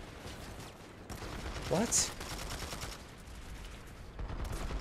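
Rapid automatic gunfire in Planetside 2, a dense rattle of shots with a brief whining sound in the middle, and someone speaks briefly over it.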